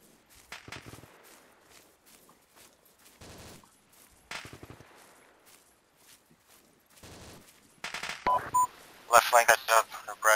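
Sharp gunshot cracks ring out during a military exercise, with scattered bursts and a dense cluster of loud reports near the end between bouts of talk and radio chatter.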